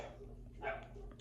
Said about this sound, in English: this dog don't stop barking